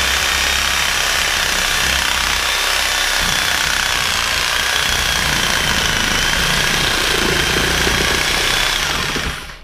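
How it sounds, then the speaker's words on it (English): A power saw cuts the horns off a deer head, running as a loud, continuous buzzing roar at close range for nearly ten seconds before cutting off. "I'll use a awl saw to get his horns off."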